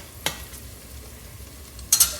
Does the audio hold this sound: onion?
yes